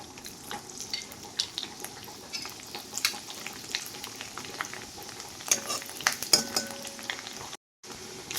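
Rice grains and mustard seeds frying in hot oil in a pan on the stove for a rustic Kerala stir-fry, a steady close crackle and sizzle with scattered sharp pops and a few utensil clinks, no voices.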